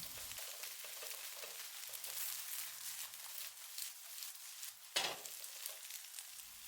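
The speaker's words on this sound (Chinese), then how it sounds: "把雞蛋炒至定型，然後再劃成小塊" Eggs stir-fry in a hot pan, a soft continuous sizzle with faint stirring scrapes and one sharper clatter near the end, quiet and alone with no talk.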